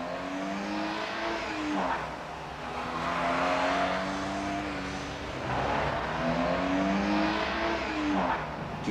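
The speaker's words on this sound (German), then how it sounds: "Prüfung der Beschleunigung aus dem Stand auf 100 Kilometer in der Stunde." A 1975 Citroën CX 2200 accelerates from standstill to 100 km/h, its engine climbing loudly through several rising gear pulls with brief dips at each shift, close and continuous with no talking.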